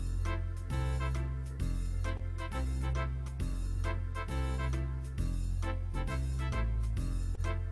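A looping electronic organ rhythm pattern with a thumping bass and steady accompaniment repeats the same groove over and over, fairly full and continuous.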